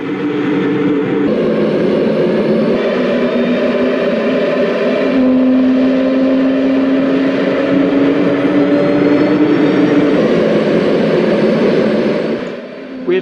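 Concorde jet engines spooling up in the X-Plane 11 flight simulator, a steady loud turbine drone with a rising whine that holds for several seconds before tapering at the end.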